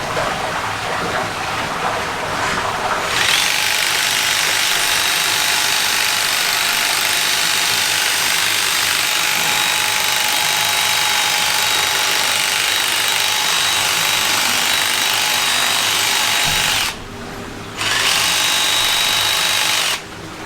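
Battery drill running steadily while trimming cow tails with a Tailwell attachment, a close, continuous whirring buzz that holds for most of the stretch, cutting out briefly near the end before resuming.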